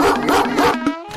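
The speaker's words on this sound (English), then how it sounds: "Cue the angry barks." A big dog barks angrily, several sharp close barks in quick succession followed by a brief yip, loud and alone.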